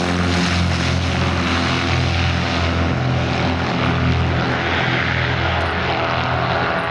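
Engines and propellers of a 1977 Cessna F337 Skymaster drone loudly and steadily throughout, a close, continuous throbbing roar with no talk over it.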